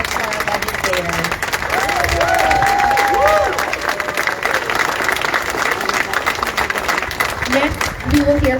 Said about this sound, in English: Let's have one more round of applause for our legislators.